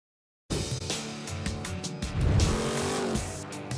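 An '84 Trans Am at a drag race bursts in after a moment of silence with a loud, close engine roar and tire squeal that swells and holds, strained and racing, with no talk.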